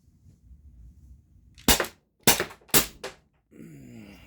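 An Umarex HDP 50 pistol on a 88g CO2 cartridge that is nearly empty fires three sharp, close cracks in quick succession after a quiet pause, followed by someone speaking.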